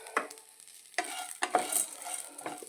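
Scraping stirs of a spatula in a pan sound at irregular intervals over a light sizzle of frying drumstick leaves, close and fairly quiet.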